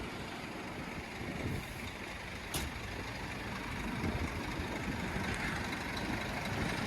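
A heavy lorry loaded with sugar beet rumbles close by, with a sharp hiss of air brakes releasing as the vehicle starts to move off.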